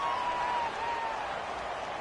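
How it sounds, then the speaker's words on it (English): Crowd cheering in a PS4 football video game, a steady wash of stadium applause and roar that swells on a big third down and holds at an even, moderate level. "the crowd getting into it as we come up on a big 3rd down"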